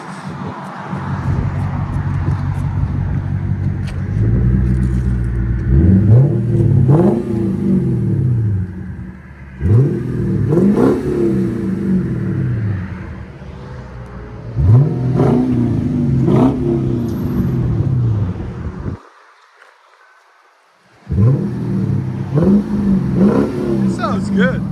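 A Lexus IS F with a 5.0L V8 engine revving repeatedly up and down in loud, rising sweeps, several rev cycles with a short drop to near silence, while people talk nearby.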